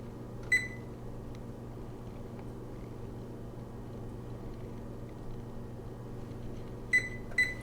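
Oven timer beeps as it is set: a single sharp electronic beep, then after a long pause under a steady low appliance hum, two more quick beeps close together.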